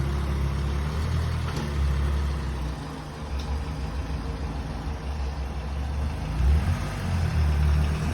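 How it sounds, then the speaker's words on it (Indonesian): An old car's engine idles after being started, a steady low rumble with slight surges in revving, close by and uninterrupted by talk. "Ini guys, mobil sudah menyala sekarang guys."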